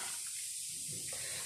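Water pours steadily into a measuring glass while cooking kebab at home, a continuous close splashing hiss lasting under two seconds with no talk.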